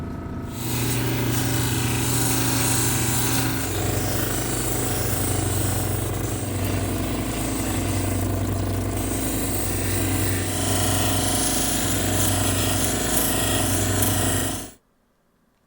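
Loud power-tool whine and grinding while polishing a small Petoskey stone sphere, steady for about fifteen seconds before cutting off abruptly into silence.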